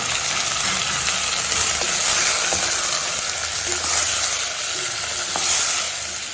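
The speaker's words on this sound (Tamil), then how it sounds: "ஒரு நிமிஷம் வதக்குனீங்கன்னா போதும் அது வதங்கும் பொழுதே" Close, steady sizzling of vegetables and tomatoes frying in a hot pan for sambar, a constant crackling hiss with faint stirring scrapes and no voices.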